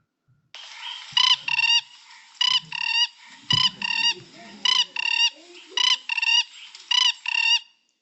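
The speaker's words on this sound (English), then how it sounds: "this is the call of the forage toad" Forage toad calling: clear, close bursts of rapid pulsed croaks that mostly come in closely spaced pairs, repeated at a steady pace against faint background rustling, with no voices.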